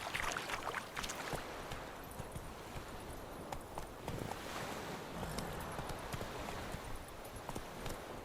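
Hooves of the horse Roach clatter at a gallop in the video game Witcher III, a rapid, steady clip-clop rhythm heard fairly faint throughout with no talk.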